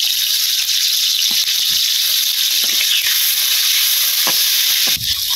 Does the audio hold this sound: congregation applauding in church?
no